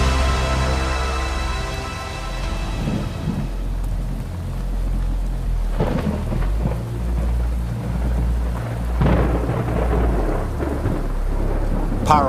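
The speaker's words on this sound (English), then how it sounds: "Powerful spring storms this morning are sweeping across the southern United States." Spring thunderstorm in the southern United States: heavy steady rain pours throughout while deep thunder rumbles and crashes roll in repeatedly, loud and close, with no voices.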